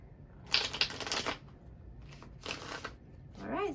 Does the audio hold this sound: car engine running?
no